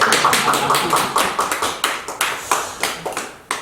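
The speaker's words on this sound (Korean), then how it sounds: "박수 치려면 약간 쳐." Light, scattered clapping from a church congregation, about a dozen separate claps in uneven rhythm, close and fairly soft, with no voices.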